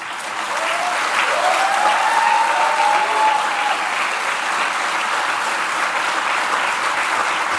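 Sustained audience applause at a humorous Hindi poetry recital, a dense, steady wash of many hands clapping close and loud throughout, with a brief whistle-like tone near the start.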